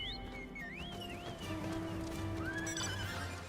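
A horse in the video game Final Fantasy XIV whinnies with rising and falling squeals while hooves clop steadily underneath, with a low droning hum in the background.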